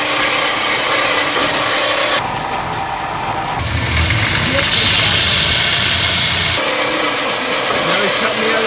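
A custom titanium motorcycle exhaust is cut into pie cuts with a power tool, a loud, continuous harsh grinding and rasping that shifts in pitch and intensity as the blade moves through the metal.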